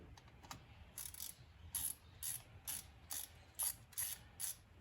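A hand ratchet clicks in short repeated bursts while breaking loose the screws on a Jeep Wrangler JK thermostat housing on a Pentastar V6, close and crisp with brief pauses between strokes.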